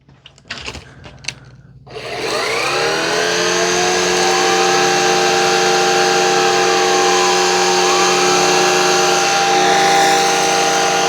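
A Shark vacuum cleaner starts after a few knocks and clatters, then whines steadily and loudly as it sucks up a big mess on carpet, its motor pitch shifting slightly as it moves.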